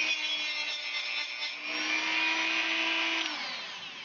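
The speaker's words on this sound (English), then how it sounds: "after I drill the hole" A power drill whines steadily as it bores into wood, the pitch holding then dropping as the motor winds down.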